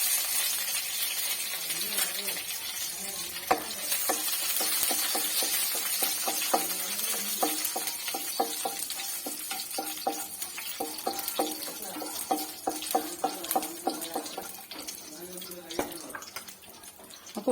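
Curry leaves and dried red chillies hit hot oil with popping mustard seeds for a brinjal thoran, giving a steady crackling sizzle with sharp pops and clicks of stirring throughout.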